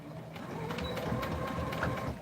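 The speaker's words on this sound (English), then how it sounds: "I'm just going to sew right as close as I can to that end so that it stays." Sewing machine stitching a seam, a quiet, close rhythmic whirring and ticking that runs steadily throughout with small bursts of needle clatter.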